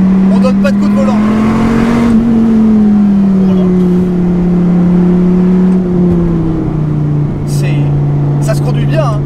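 A Dodge SRT Viper GTS droning steadily as it drives along a road, its low engine note rising and falling slightly with throttle, close and loud, while someone talks over it throughout.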